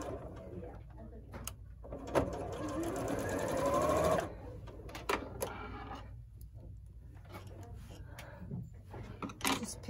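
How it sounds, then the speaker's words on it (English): A domestic sewing machine runs a straight seam on a red cross quilt block, humming steadily for about two seconds and then stopping. Softer handling clicks and a coo like a pigeon's follow, and a voice talks nearby. "You just sew it together."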